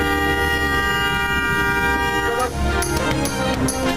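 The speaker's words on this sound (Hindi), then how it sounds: "गाड़ियों के हॉर्न बजाए और वाले वाला तक अपनी आवाज को पहुंचाए।" Long sustained car horn blasts drone together at a street protest over fuel price rises in Karachi, then break off into short repeated toots, street noise around them.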